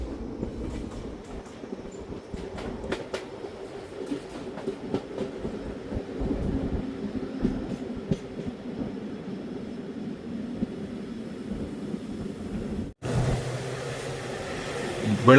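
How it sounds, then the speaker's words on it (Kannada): Passenger train rolling into Kyathsandra railway station, continuous rumble and clatter of coaches on rails heard from on board, with a sharp cut near the end and a louder burst afterward. "ಕ್ಯಾತ್ಸಂದ್ರ ರೈಲ್ವೆ ಸ್ಟೇಷನ್ಗೆ ಎಂಟ್ರಿ ಆಗ್ತಿದೆ ನಮ್ಮ ಟ್ರೈನು."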